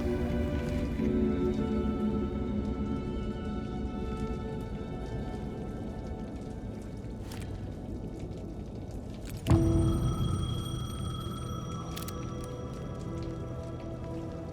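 Rain patters steadily in Alan Wake II, then a payphone suddenly starts ringing nearby, its loud bright tone sounding over the falling rain.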